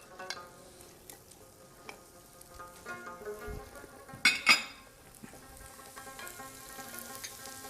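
Mixed vegetables being stir-fried and tossed in a pan, a low steady sizzle with scattered metallic scrapes and clinks of utensils, two sharp clanks in the middle, close by with no talking.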